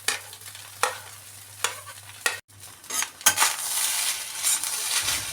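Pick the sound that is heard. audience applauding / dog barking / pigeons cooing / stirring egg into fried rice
stirring egg into fried rice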